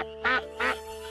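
Two loud, nasal duck quacks, close by, separated by a short pause against a quiet background.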